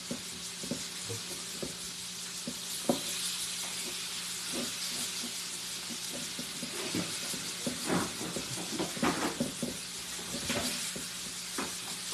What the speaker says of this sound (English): we're frying them right here in front of you